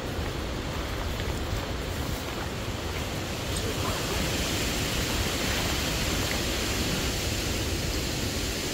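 Wind blows at an overnight bivvy camp, with steady broadband rushing and buffeting as gusts rise and ease, loud and constant with no talking.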